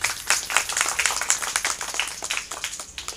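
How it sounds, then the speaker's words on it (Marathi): An audience claps at a village Navratri gathering in Kongaon, Bhiwandi, with distinct individual claps that rise and fall unevenly over a few seconds and are loud and close. "तुमचं सगळ्यांचं अभिनंदन म्हणून एकदा टाळ्या वाजवा"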